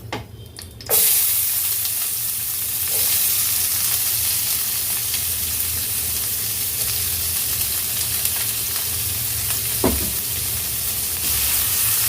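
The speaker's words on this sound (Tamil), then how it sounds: "ரெண்டு பெரிய வெங்காயம் அதை போட்டுக்கலாம்" Steady sizzling of onions frying in a pan, a constant hiss with occasional stirring clinks and scrapes, no voices.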